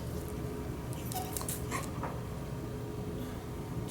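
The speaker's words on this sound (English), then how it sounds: "Panting, stress." A pit bull pants under stress, a continuous rapid breathy huffing close to the mic, with faint scratchy movement and a few brief higher whimpery sounds mixed in.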